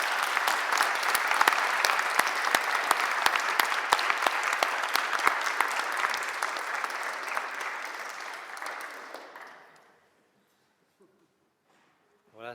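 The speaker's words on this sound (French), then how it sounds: "pendant tout le colloque, on peut les applaudir." An audience at a scientific colloquium applauds the young volunteers, with dense, loud clapping that holds for about nine seconds, then thins out and fades to near silence. A faint noise is heard at the very end.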